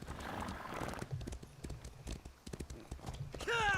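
Horse hooves clip-clop in a quick rhythm in the Elder Scrolls Online game, with a short whinny at the end, the footfalls fairly close under faint background ambience.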